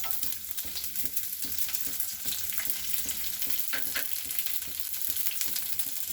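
Garlic goes into oil already popping with mustard seeds, giving a continuous close sizzle with faint crackles and a few light stirring scrapes, moderately quiet and without speech.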